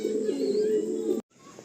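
Pigeons in a large West Bengal loft coo in a dense, low, rolling chorus that cuts off abruptly, leaving a faint quiet tail.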